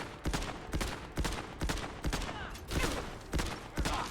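The Navy Auto Pistol, an M2074 Navy weapon mod, fires in the video game Fallout 4, with about nine loud, evenly spaced shots ringing out over a steady background hiss.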